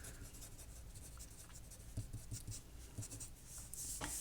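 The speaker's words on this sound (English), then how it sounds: "Just for fun, let's write Newton's second law." Pen or chalk scratching steadily across a surface while Newton's second law is written out by hand in a physics solution, quiet strokes with small taps, no voice.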